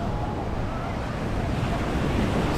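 Surf and waves at Waikiki Beach on Oahu make a steady, loud wash of broadband noise with wind buffeting the microphone, continuous throughout.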